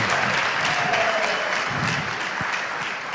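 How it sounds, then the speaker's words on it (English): Applause from an audience at a conference summit stage, a dense, steady roar of many people clapping, loud and sustained for the whole stretch. "Come on, another round of applause."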